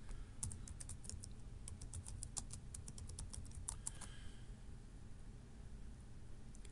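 Keys clatter in quick irregular bursts on a computer keyboard while logging into an email program, with steady background hum and no talking.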